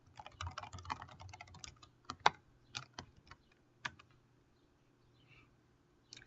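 Bursts of computer keyboard typing, rapid clusters of key clicks followed by a few isolated keystrokes, close and fairly quiet, fading to near silence.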